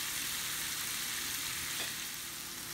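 Dryad's saddle mushrooms frying in peanut oil in a pan, a soft continuous sizzle heard close up with light stirring and no voices.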